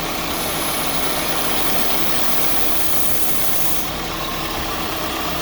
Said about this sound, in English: See the engine vibrating.